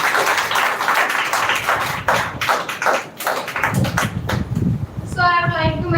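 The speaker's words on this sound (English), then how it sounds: "please clap for yourself" A room of students claps briefly for themselves at a women's education speech competition finale, scattered close claps over a few seconds, then a voice speaks.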